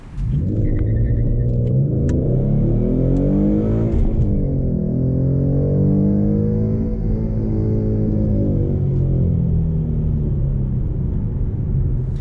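A car with shorty headers accelerates hard through a 0 to 60 run with traction control on, a loud, steady engine roar rising through the gears and holding strong from start to finish.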